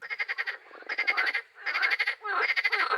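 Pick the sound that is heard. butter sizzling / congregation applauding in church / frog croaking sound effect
frog croaking sound effect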